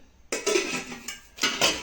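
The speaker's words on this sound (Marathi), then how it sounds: "मला तीन पातेली मिळाल्या आहेत स्टीलमध्ये त्याच्यासोबत झाकणी पण आलेले आहेत" Three steel pots and their lids knocked and set down, producing a quick series of bright metallic clatters and clinks, close and fairly loud with no talk.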